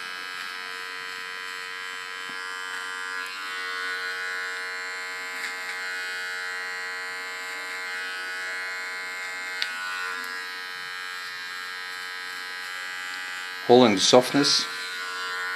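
A small hair clipper trims a clean line at the hairline during a pixie cut, its steady electric buzz running underneath continuous talk and swelling louder near the end as the blades press close.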